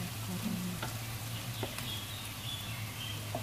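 Tempeh and long beans stir-fry in a home kitchen pan, a steady close sizzle with occasional scraping and tapping of a utensil.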